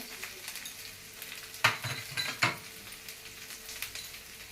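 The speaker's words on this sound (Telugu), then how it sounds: "పచ్చివాసన పోయినంత వరకు వేగనివ్వాలి అల్లం వెల్లుల్లి పేస్ట్" Ginger garlic paste sizzles steadily in a pan for jackfruit pulao, with a couple of sharp stirring scrapes of a utensil against the pan midway, no voices.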